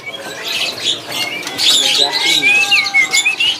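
A magpie-robin in a box cage sings a run of bright, high whistles and warbling phrases, fairly close, with a faint voice murmuring underneath, at a bird market.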